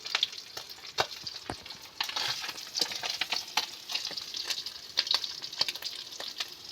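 River fish fry in hot oil until crisp, giving an even bed of sizzling hiss dotted with sharp pops and crackles, fairly close and alone with no talking.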